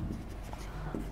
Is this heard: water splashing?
no